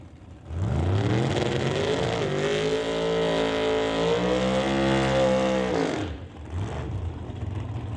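Drag racing car engine of the Blue Max Bel Air, loud and sustained as it roars through a rising run for about five seconds before cutting out, then a lower engine rumble continues at a drag strip.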